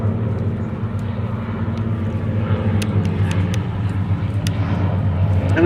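Display aircraft at the IWM Duxford airshow roar steadily overhead as they race to catch up and join formation, a loud continuous engine drone holding throughout with no pause.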